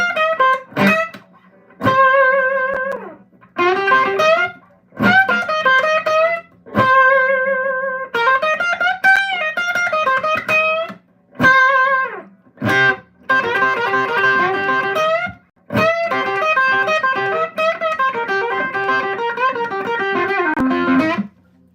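Electric guitar through a tube amp, dry with reverb and delay both switched off, plays a loud, choppy run of strummed chords and riffs, phrases cut short by abrupt stops and brief silences, no voices over it.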